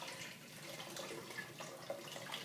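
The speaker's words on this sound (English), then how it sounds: "and I just pour the green juice in here." Green juice pours from a blender container through a fine mesh filter, a faint continuous trickling and splashing of liquid.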